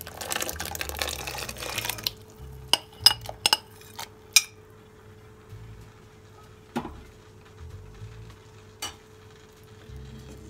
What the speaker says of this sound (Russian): И высыпаем картошку.